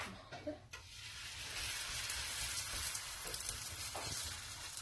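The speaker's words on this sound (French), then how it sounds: "on a mis sur la poêle et on va laisser cuire" Moroccan msemen flatbread crepes cooking in a frying pan with butter and oil, producing a steady soft hiss of sizzling after a few brief handling knocks, quiet and close.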